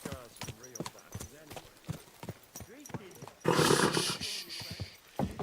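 Horse hooves clip-clop in the video game Kingdom Come Deliverance 2, a rhythmic trotting under intermittent voices, with a louder rush of noise midway.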